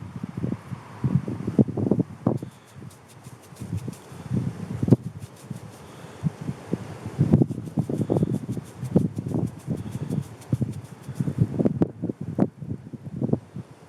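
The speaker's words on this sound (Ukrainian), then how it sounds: "Вітер сильний." Strong wind buffets the microphone in uneven, gusty rumbles, with a faint steady hum in the background.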